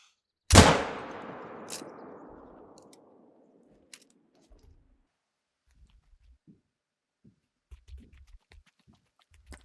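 A single loud rifle shot in the hunting game theHunter: Call of the Wild, a sharp crack with a long rolling echo fading over a few seconds, followed by faint scattered clicks.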